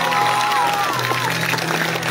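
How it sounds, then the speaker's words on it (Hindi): A crowd claps and cheers at a night-time devotional jagran in Doda, the applause dense and continuous over a steady musical drone and hum from the sound system. "अपने लिए जोरदार ताली बजाओ।"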